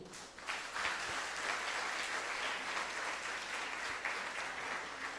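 Sustained applause from a church congregation fills the space, steady clapping lasting several seconds at moderate volume.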